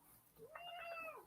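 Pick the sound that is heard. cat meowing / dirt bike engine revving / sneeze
cat meowing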